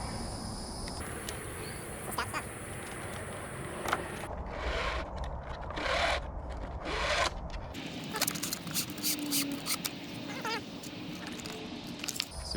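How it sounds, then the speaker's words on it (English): Snips cut through a kayak rudder cable in a few short, crunchy bursts close by, with light handling and rubbing noises before and after and no talking. "use my snips here to get rid of the cable"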